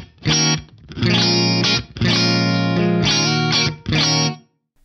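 Distorted electric guitar plays chopped chords in several bursts separated by brief gaps, with a subtle room reverb adding slight roomy ambience around each hit.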